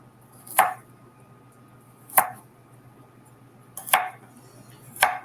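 A knife chops through vegetables such as onion and carrots on a board for a stir fry: four separate, crisp strikes spaced about a second and a half apart, close and clear against a quiet background with a faint steady hum.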